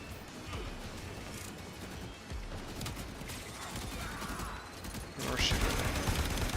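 Rifle fire in a video game rattles in dense, continuous bursts amid crashes and impacts, growing louder toward the end, with a voice talking over it.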